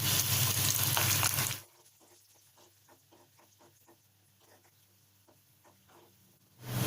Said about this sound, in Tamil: நெய் சூடாயிடுச்சு. இப்போ இதில் முந்திரி போட்டுடலாம். அடுத்து திராட்சையும் போட்டுடலாம்.